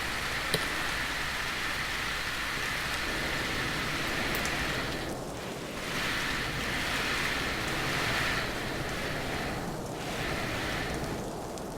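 Steady rain falls in the Stormworks video game, a continuous broadband hiss with gentle swells and dips, mixed with a low watery rumble like waves, sustained and moderately loud with no voices.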